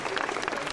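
A convention audience at a Transformers panel at BotCon 2000 applauds, a brief, even wash of many clapping hands with a faint crowd murmur.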